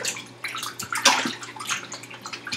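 Raw beef being washed by hand in water, with sloshing, splashing and dripping in irregular surges as the meat is massaged, close by and without speech.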